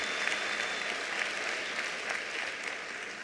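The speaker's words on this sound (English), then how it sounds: "Let's give MTN a big hand of applause." Audience applause in a large room of around 1,200 to 1,500 people at the 2024 ministerial announcement of NSC examination results, a steady, moderately loud wash of many hands clapping without pause.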